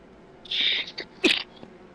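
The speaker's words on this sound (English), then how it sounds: "Holding in a sneeze" A stifled, held-in sneeze from a motorsport race commentator: a muffled, breathy burst followed by a sharper, shorter second burst. Close and fairly quiet, with no talk over it.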